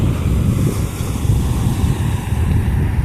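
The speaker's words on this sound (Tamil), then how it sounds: "அலையெல்லாம் பார்த்திங்கன்னா அடிக்கிறது பார்த்தா தெரியுதில்ல, ரொம்ப ஃபோர்ஸ் அடிச்சிட்ருக்கு." Strong sea waves crash continuously on a beach at Ras Al Khaimah, a loud, dense roar of surf mixed with wind buffeting the microphone, with no voices.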